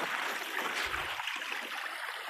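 Water runs steadily over rocks in a homemade backyard creek fed by an underground pipe, a continuous close trickling and burbling with no voices.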